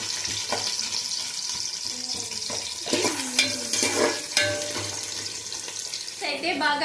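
Ingredients frying in a pan for a Sunday chicken meal, a continuous sizzle with stirring and clattering, mixed with running water and faint kitchen background noise.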